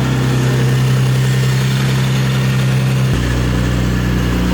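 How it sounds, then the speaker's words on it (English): A supercharged Infiniti G35 engine cranks and catches, settling into a loud, steady idle with a deep low hum that shifts pitch partway through as the revs drop. "So, all right, go ahead and crank it over."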